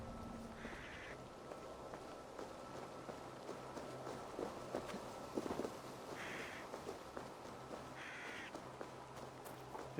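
Crows caw in the game Assassin's Creed Valhalla, with three short distant calls spread over quiet ambient background, joined by faint footsteps and soft hoof-like clopping.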